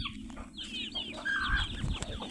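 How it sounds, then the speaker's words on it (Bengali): Chickens being put into a basket make soft, close clucks and short murmuring calls over a low background rumble, irregular and fairly quiet throughout. "ধামাই ঢুকে যাচ্ছে মুরগি"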